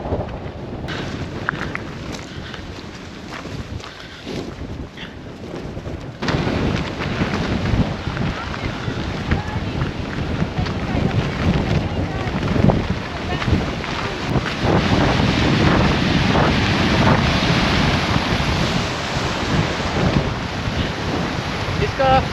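Strong outdoor wind buffets the microphone near a waterfall viewpoint and mountain in Iceland, a loud continuous roar that grows heavier after the first few seconds and persists throughout.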